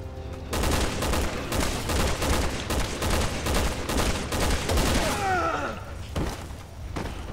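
Resident Evil 6 gameplay fills with rapid bursts of gunfire, steady thumping shots close and loud for several seconds, while faint voices sit under the barrage.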